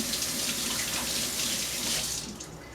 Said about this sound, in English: I want to rinse my hands again.